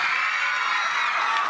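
A concert audience cheers and whoops continuously for performers introduced on stage, a dense, steady wash of crowd noise with no break.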